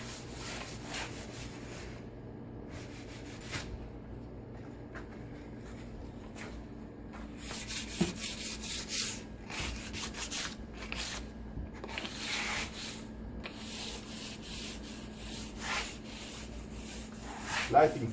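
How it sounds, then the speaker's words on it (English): Light hand sanding with 220-grit sandpaper on polyurethane-coated wood goes on at length, raspy back-and-forth strokes with short pauses, growing busier and louder in the second half. "Light sanding."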